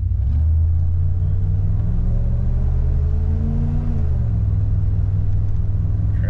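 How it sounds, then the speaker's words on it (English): A car drives with its engine rumbling steadily, the pitch rising as it accelerates and then dropping as the transmission shifts up a gear. "Transmission shifting fine."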